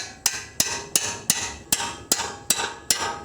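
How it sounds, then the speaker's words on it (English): A hammer smacks brake parts to loosen them, eight sharp metallic whacks in a fairly even rhythm, close and loud, each ringing briefly before the next strike. "But I just give them a good smack."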